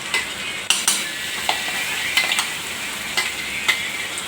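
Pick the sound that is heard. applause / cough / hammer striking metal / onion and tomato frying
onion and tomato frying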